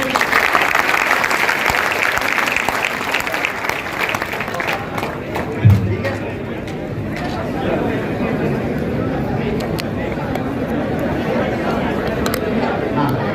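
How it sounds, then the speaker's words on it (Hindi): Audience at an institute of science and technology in Bhopal claps loudly at first, then settles into a thinner crowd patter and murmur mixed with chatter. "एक बार जोरदार ताली बजाओ।"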